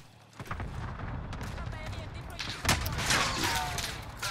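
Video game gunfire in Caldera: a dense, continuous rumble of distant shots and booming impacts building louder toward the end, with a voice faintly mixed underneath.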